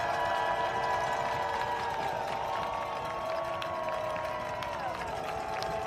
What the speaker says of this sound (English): here comes the crowd at Clarence East Field for the biggest play of this game so far